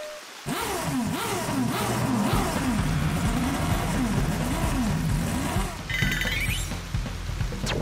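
Engine revving from a toy monster truck at a LEGO DUPLO car wash, repeated rising and falling rev swells that are loud and close for several seconds, then a higher whirring sound near the end.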